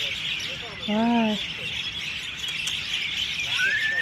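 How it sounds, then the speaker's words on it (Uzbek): Birds call from trees in a juniper grove near a student campus, with a clear, loud rising chirp up close, a few sharp tweets, and a later thin whistle over a bright background of distant birdsong. "qushlarning sayrashi umuman quloqqa yoqadi"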